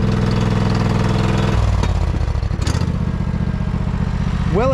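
A 1968 John Deere 140 garden tractor engine sputters into life, close and loud. It runs rough with an uneven, chugging note, stumbles and dips midway, then settles into a steady idle while a faint voice briefly sounds.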